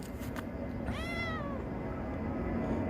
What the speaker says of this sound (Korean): 길고양이입니다